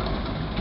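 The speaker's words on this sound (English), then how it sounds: "There's a John Deere Model 60." A 1953 John Deere Model 60 low-seat tractor running at a steam show, its engine a steady, loud, low rumbling drone throughout, with no talk.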